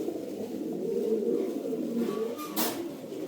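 Fancy pigeons in a home collection, including a Telmark-line pair, coo in a low, rolling, continuous murmur close by, with a brief brighter rustle near the end and no speech.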